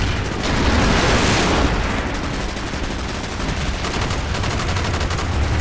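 A grenade blast in the Project Black Ops video game is heard amid dense, loud gunfire, a continuous roar of shots and booms with almost no let-up.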